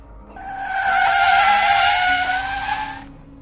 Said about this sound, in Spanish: Giré el volante de golpe y el auto derrapó.